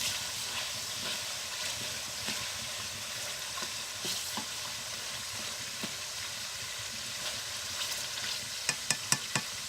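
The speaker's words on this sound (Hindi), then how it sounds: "गोश्त को साथ साथ पलटते रहें ताकि लग ना जाए।" Meat frying in a pan for chicken pakora, turned over and over so it won't stick, with a steady close sizzle and scattered scraping stirs, ending in a few sharp clinks of the utensil against the pan.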